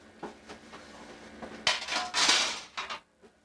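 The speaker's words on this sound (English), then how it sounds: "I get pans ready like this. Be sure that they're all clean. I'll wipe them off." Metal baking pans for biscuits are handled and wiped in a kitchen, giving close clanks, scrapes and rattles in irregular bursts. A louder cluster of clattering comes near the end, then everything goes quiet, with no voices.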